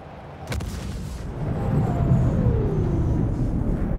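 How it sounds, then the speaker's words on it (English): A size 5 torpedo launching in the Star Citizen space game: a sharp thump, then a rising rumbling whoosh with a faint descending whine as the torpedo streaks away. "Okay, one more torpedo."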